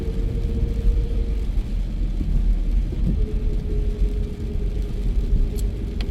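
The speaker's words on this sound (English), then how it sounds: "I'm trying to drive slow as I drive you on East 19th Street." A car rolls slowly along East 19th Street in Paterson, with a steady low engine and road rumble, a faint whine holding in the background and occasional small knocks, and no talking.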